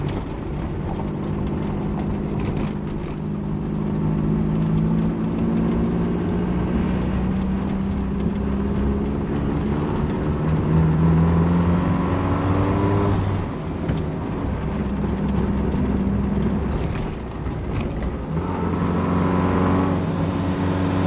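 A 1975 Chevy Vega Cosworth drives steadily with a continuous loud engine drone, revs rising and shifting through gears, the interior rumble and road noise filling the whole stretch.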